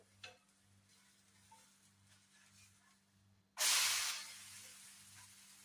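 A wheat vegetable dosa hits the hot pan with a sudden loud sizzle after a quiet, humming lull, the hiss bursting up sharply and then slowly easing off as it keeps frying.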